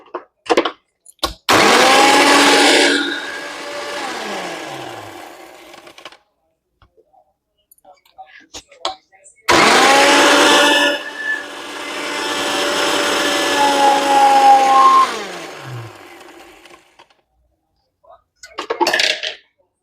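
A kitchen mixer grinder crushing fresh rose petals for homemade soap, in two loud whirring bursts of a few seconds each, the motor winding down after each run, with quiet handling noise between.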